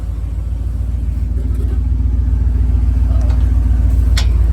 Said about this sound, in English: now go ahead and start her up. It's alive.